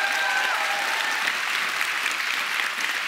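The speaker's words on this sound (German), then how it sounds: "Der Applaus." Steady applause from an audience at a live book-event show, continuous and fairly close, with no talk over it.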